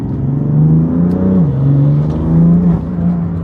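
A 700 hp BMW F80 M3 engine revs loudly and steadily, its pitch rising and swelling in waves, close up with no talking.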